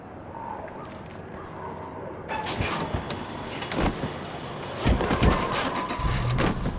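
A car in the video game State of Decay 2 starts up after a door sound, with engine noise rising into a busy, loud drive full of thumps and rattles.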